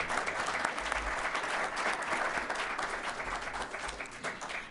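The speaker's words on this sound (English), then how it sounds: "Let's give them all another round of applause for these amazing essays." Guests at a scholarship ball clap for a group of essay writers, a full, sustained burst of applause from a large crowd that stays loud and even before easing slightly at the end.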